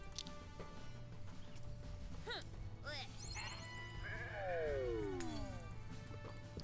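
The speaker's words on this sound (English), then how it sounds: "A sheep is saddened beyond words and just wishes to be left alone." Sheep bleats from the video game Renowned Explorers, a few short wavering cries over steady game music and effects, with a brief talking voice.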